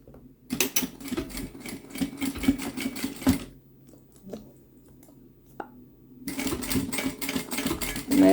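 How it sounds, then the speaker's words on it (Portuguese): A domestic sewing machine stitches a fabric thread pouch in quick rattling bursts, runs of rapid needle clatter separated by a quiet pause with a few small clicks, then another burst, close and clear. "Costura que eu tô fazendo com um pezinho de máquina"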